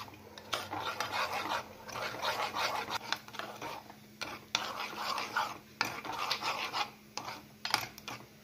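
A paste is stirred in a pan with a little oil for a vegetarian brinjal dish, the spoon scraping against the metal in repeated strokes over a faint sizzle, close and fairly quiet.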